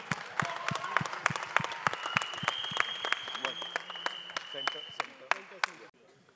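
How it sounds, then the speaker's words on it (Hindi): Crowd applause at the trailer launch of the film Dhurandhar, a dense wash of clapping with sharp loud claps and a few whoops, tapering off abruptly near the end. "एक बार जोरदार तालियां हो जाएं यार"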